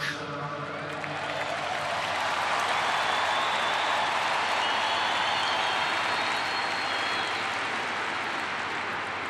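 Large crowd applauding at a commemoration for Charlie Kirk, a broad sustained wash of clapping and cheering that swells after the first second and holds loud and even to the end.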